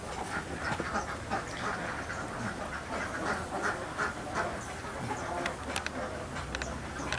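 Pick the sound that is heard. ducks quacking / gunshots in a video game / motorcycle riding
ducks quacking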